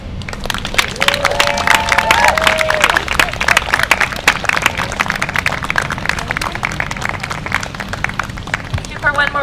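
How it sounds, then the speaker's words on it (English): Crowd at a higher education day of action rally applauding and cheering after a speech, steady dense clapping close and loud throughout, with a few voices calling out. "Thank you for one more round of applause."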